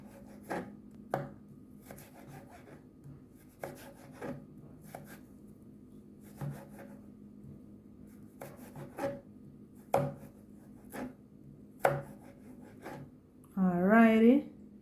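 A knife chops carrot finely on a cutting board for a Jamaican escovitch fish dish, sharp taps in small irregular bursts against a quiet background, with a short voice at the end.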